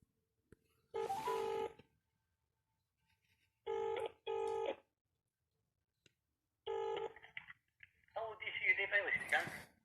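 Telephone tones sound in several short bursts separated by silence during a police phone call, followed by a voice talking at the end.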